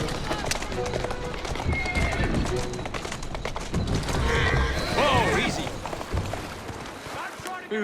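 A horse in Assassin's Creed Syndicate whinnies loudly and clip-clops along a street, with hooves and carriage noise up close under overlapping voices.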